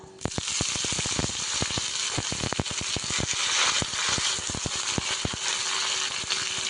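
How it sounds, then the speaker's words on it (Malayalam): Mustard seeds spluttering in hot coconut oil, a rapid irregular series of sharp close pops and crackles over a continuous sizzle, loud and busy throughout with no talking. "ചൂടായിട്ട് അപ്പം നമുക്ക് കടുക് ഇട്ട് കൊടുക്കാം കേട്ടോ. ഈ കടുകൊന്ന് പൊട്ടട്ടെ കേട്ടോ."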